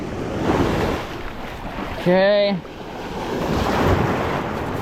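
Ocean surf washes onto a beach in a steady broadband roar, swelling and fading with the waves, while someone briefly speaks in the middle.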